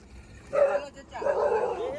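A dog gives two short, yelping barks close by on a road at night near Nathdwara, India, with a faint background murmur between them.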